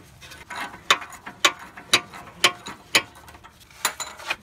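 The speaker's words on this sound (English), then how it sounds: "You need a female Torx to get that bolt off." A ratchet fitted with a female Torx socket works a front brake bolt loose on a BMW E70 X5, giving a steady series of sharp ratcheting clicks, about two per second, close and fairly loud with no talking.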